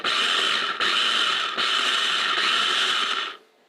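Pampered Chef Twist and Chop chopper ratcheting: a steady, close clicking whir that runs for about three seconds in three or four joined twists, then stops, with no talk.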